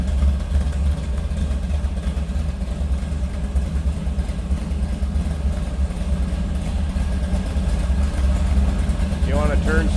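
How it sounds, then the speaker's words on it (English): A 1957 Chevrolet 210 two-door post street rod idles with a steady, loud low rumble that holds evenly throughout, with a faint higher-pitched sound near the end. "this one's got a rumble to it"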